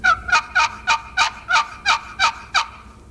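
A friction box call imitating a turkey yelp gives eight evenly spaced, clear yelping notes in a steady rhythm, close and fairly loud with no talking.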